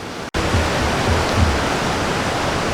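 Bad River near Copper Falls, rushing water forming a loud, steady broadband roar throughout, broken only by a brief dropout near the start.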